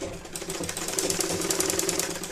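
A sewing machine stitching a baby saliva towel runs in a fast, even mechanical chatter at close range, its needle beating in a rapid steady rhythm throughout with no pauses or speech.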